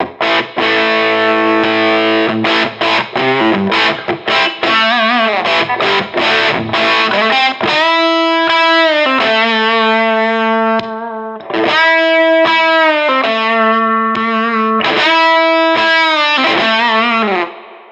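Loud, heavily distorted electric guitar through a Teisco distortion pedal playing chords and riffs, with a thicker drive on sustained notes later when its boost switch is engaged; no voices.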